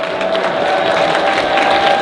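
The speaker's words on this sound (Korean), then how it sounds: "우리 정강훈 목사님 사모님에게 다시 한번 큰 박수를 보내주시기 바랍니다" A church rally crowd gives sustained applause for a pastor's wife, a dense, steady wash of clapping filling the hall without a break.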